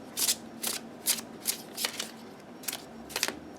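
A Hezico tarot deck being shuffled by hand, with about eight crisp riffling bursts at a steady rhythm, close and fairly quiet, with no voices.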